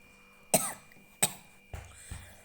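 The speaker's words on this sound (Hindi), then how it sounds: "खांसी क्यों आ रहा है?" A person coughs several times at close range, two sharp, harsh coughs followed by two softer, lower ones, spaced roughly half a second apart against a quiet background.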